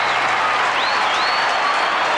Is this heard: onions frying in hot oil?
no